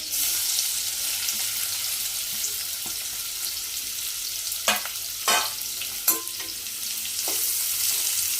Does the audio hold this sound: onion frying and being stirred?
yes